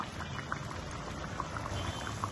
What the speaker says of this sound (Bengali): পানিগুলো টকটক করে ফুটছে